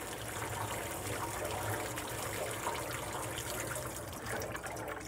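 Water poured steadily and continuously, a close, even splashing and trickling stream that lasts throughout at a constant level with no talking over it.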